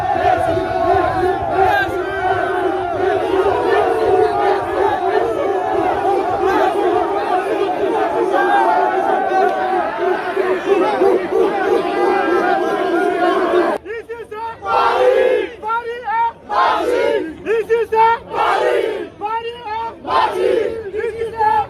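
Excited crowd of fans at the Parc des Princes greeting Messi, a loud sustained roar of shouting and chanting that breaks midway into scattered bursts of cheers and calls.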